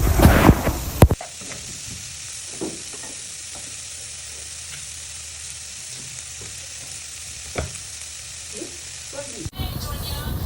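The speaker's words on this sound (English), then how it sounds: "So I'm just going to give that a stir till it's properly cooked for a few minutes." Oyster sauce and soy sauce stir-fry in a hot pan for Singapore noodles, a steady close sizzle with occasional scraping stir strokes, opening and ending with louder bursts of handling noise.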